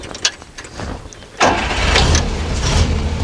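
A Volvo PV444 with a B16 engine, rallied in the 2000s, cranks briefly and then fires up, settling into a loud, steady, even idle close by.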